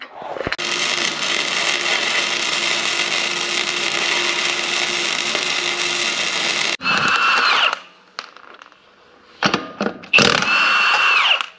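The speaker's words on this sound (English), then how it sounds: "I'm gonna put it right about there, weld it up" Steel plate on a water truck is welded in a long, loud, steady buzzing burst lasting several seconds, followed by shorter crackling bursts with brief pauses between them, close by.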